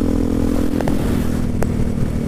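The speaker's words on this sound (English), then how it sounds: "Tom's in a freaking wheelie." A supermoto motorcycle holds a wheelie on a street, its engine a steady, close buzzing drone. A couple of brief clattering knocks cut through the engine noise.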